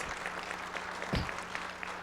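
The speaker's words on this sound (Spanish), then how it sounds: "un caluroso Aplauso, maestro" Applause at a weekly assembly in honor of a national coordinator's birthday, a steady patter of clapping from a gathered crowd, fairly faint with a low hum underneath.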